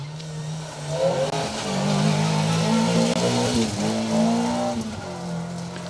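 A 1400 MG ZR rally car runs hard along a gravel special stage of a Yorkshire rally, its raucous engine rising and holding at high revs through the gears for several seconds, loud and close with no voices.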